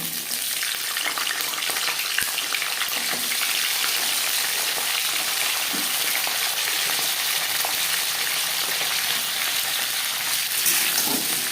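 Green beans (shim) fry in refined oil with cumin and chili, a steady, loud, dense sizzle running unbroken throughout, with faint stirring scrapes mixed in.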